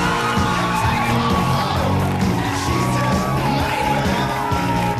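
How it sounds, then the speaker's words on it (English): A room full of women cheering, yelling and whooping, a loud, continuous crowd roar of overlapping voices with music underneath. "a room full of women cheer as a teenage boy takes his clothes off for their entertainment"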